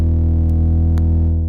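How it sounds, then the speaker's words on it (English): A Candy Soul Food 808 bass rings out as one deep, sustained tone that holds loud and steady, with a couple of faint clicks on top and no voice. "Here I've used a Candy Soul Food 808."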